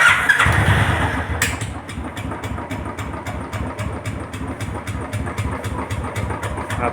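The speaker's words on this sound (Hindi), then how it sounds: "और अब मैं आपको इसका सेल्फ लेके दिखाता हूँ कि ये गाड़ी स्टार्ट बगैर चाबी के भी हो रही है।" A Royal Enfield Bullet motorcycle is started with the self-starter while its key is out, giving a brief cranking burst before the engine catches and settles into a steady, close, thumping single-cylinder idle.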